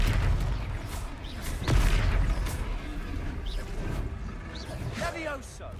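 A Confringo fire spell goes off in Hogwarts Legacy combat, a booming blast with crackling bursts and scattered battle noise over a continuous rumble, while voices speak over the fight.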